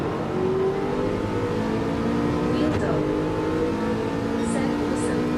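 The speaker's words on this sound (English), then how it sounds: "Look at all the cars bunched ahead of me." Race car engines whine and drone steadily in a Gran Turismo 7 online race at Road Atlanta, with a pack of cars bunched together, the sound continuous and fairly loud throughout.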